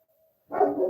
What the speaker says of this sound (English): barking now